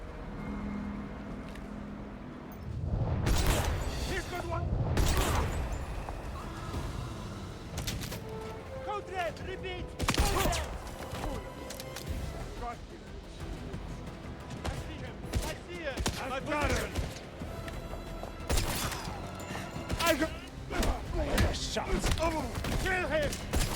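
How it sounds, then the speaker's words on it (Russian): Gunfire in the video game 007 First Light, several sharp shots and bursts scattered through the scene over a rumbling background, with someone talking over the action. "Слышишь, двойной выстрел в ноги?"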